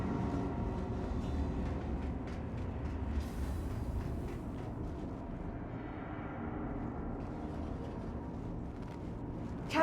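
A transit capsule train in the Star Citizen video game pulling into a station, a steady low rumbling hum with airy whooshing layers and a faint rise near the end, no voices.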